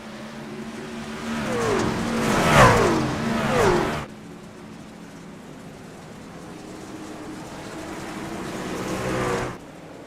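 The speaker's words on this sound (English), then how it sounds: "Taking in all the sights and sounds of the NASCAR trucks on the dirt track." NASCAR trucks racing on a dirt track, engines roaring past in a loud rising-and-falling pass for the first few seconds, then a steady distant drone before another surge near the end.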